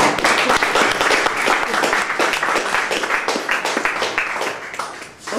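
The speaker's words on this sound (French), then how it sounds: "On peut l'applaudir." An audience at an open-stage event gives steady applause, with many hands clapping in a dense, sustained wash that stays loud throughout before easing slightly at the end.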